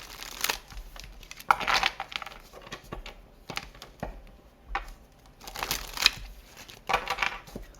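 A deck of tarot cards being shuffled by hand: irregular papery riffles and soft slaps in bursts, close and fairly quiet, with brief pauses between handfuls and no talking.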